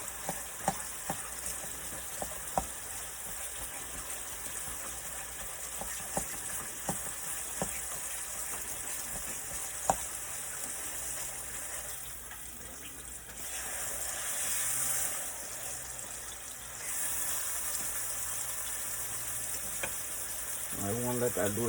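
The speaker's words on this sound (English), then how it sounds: "I want to let that do its sizzle for a minute." Pork tenderloin fries in a pan with a steady, loud sizzle that runs throughout, broken by occasional clicks and stirring sounds and swelling louder toward the end.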